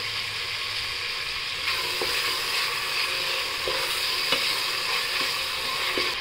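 Small tomatoes and coriander sizzle and fry steadily in hot oil in a pan for peas paneer pulao, with a few soft stirring taps against the pan.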